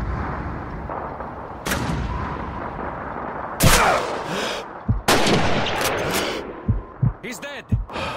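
Sniper rifle fire in the Call of Duty 2 Stalingrad City Hall mission, with several sharp, heavy shots cracking over a rumbling battlefield and distant gunfire, some blasts loud and close, others scattered and further off.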